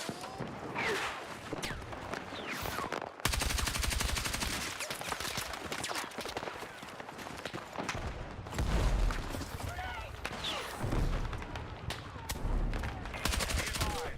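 Gunfire in the shooter Battlefield 6, bursts of rapid automatic shots in long strings broken by brief pauses, loud and close, with a voice talking over them.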